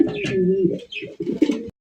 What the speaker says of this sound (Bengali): খুবই সুন্দর একজন লক্ষা কবুতর দেখতে পাচ্ছেন, সাদা ধবধবা একদম পুতুলের মতো চেহারা।